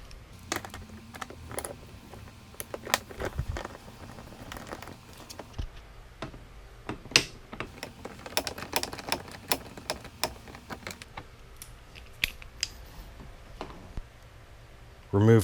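A ratchet with a 4mm Allen key socket backing out the bolts of the gas tank shroud on a Yamaha Grizzly Kodiak 450 ATV: scattered bursts of quick, sharp clicks close by, with pauses between them.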